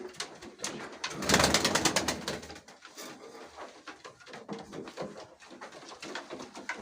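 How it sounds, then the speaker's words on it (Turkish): Tumbler pigeons kept as flying birds coo and flutter inside a loft in Kayseri, with a louder burst of calls early on and steady softer cooing and rustling throughout. "Burası da uçan kuşlarımızın yeri."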